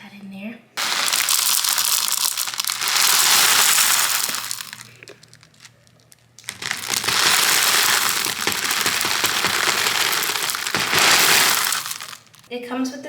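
GG hard wax beads poured into a wax warmer, two long loud rattling pours of small hard beads with a short pause between, close by.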